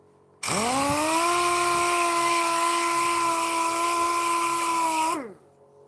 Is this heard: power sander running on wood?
yes